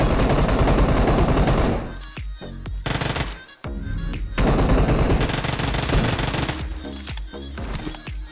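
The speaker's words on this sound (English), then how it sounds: "They're here shooting me." Automatic gunfire in the PUBG Mobile game, Erangel map during the Frost Festival event: loud sustained bursts, with a brief lull and a sharp drop before the shooting resumes, alone and without talk.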